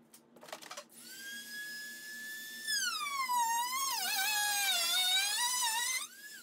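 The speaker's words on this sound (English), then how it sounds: "just use a Dremel with a cutting tool, and I'm just going to cut a small, maybe 4-inch line" Dremel rotary tool with a cutting bit cutting into a plastic kayak hull, a high whining motor with a pitch that wavers and dips under load, close and continuous for several seconds after a short start.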